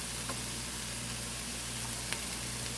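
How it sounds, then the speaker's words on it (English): Onions sautéing in a pan, a steady soft sizzle of frying throughout with a few faint clinks, fairly quiet and with no talking. "so we're sauteing these onions"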